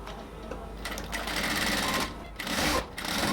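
Sewing machine stitching the final seam of a band collar on a garment, running in bursts of rapid stitching with brief pauses between, close and fairly loud.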